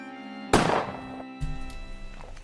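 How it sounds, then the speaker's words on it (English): A gunshot sound effect from the video game Trails in the Sky: one sharp, loud blast that decays over half a second, followed by a softer thud and quieter game ambience. "Ugh, gunshot."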